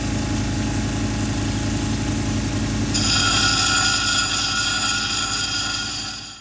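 A lapidary wheel grinds a Lake Superior agate with a loud, steady mechanical drone and whir, joined partway through by a brighter high-pitched grinding whine that holds until the motor winds down at the end.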